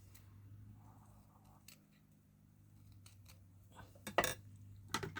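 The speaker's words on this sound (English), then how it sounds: "I'm just going to snip this off a little bit more" Scissors snip paper during a paper-craft card project, giving two crisp, close cuts near the end over a steady low background hum.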